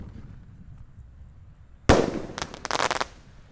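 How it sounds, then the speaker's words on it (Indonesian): A jumbo Bima Sakti 4 firecracker set off for Ramadan goes off after a near-silent wait with one sudden loud blast, then a quick burst of sharp crackling pops that fades about a second later. "Kita nyalakan mercon yang jumbo-jumbo guys."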